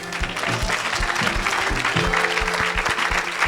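A church congregation claps in praise during a worship service, with steady loud rhythmic applause and a beat of music underneath.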